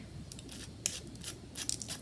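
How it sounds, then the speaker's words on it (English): A Big Shot die brush scrubs through die-cut paper to clear out the small cut pieces, giving short repeated bristly scratching strokes with a few sharper clicks, close up and moderately quiet, with no voices. "Now I'm just going to come out with my Big Shot die brush real quick and get the insides out"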